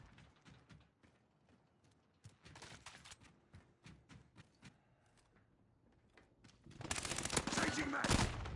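In the video game Modern Warfare, scattered gunshots and short automatic bursts crack at irregular intervals, then build into a loud, sustained burst of heavy fire near the end.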